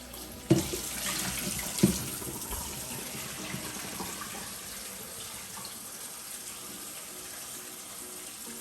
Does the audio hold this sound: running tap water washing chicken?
yes